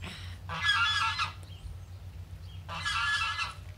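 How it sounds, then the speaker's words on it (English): Geese honk in two loud bursts about two seconds apart, nearby and outdoors, with quiet low background hum between the calls. "Where are you, geese?"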